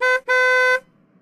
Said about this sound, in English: I am going to blow an air horn at student.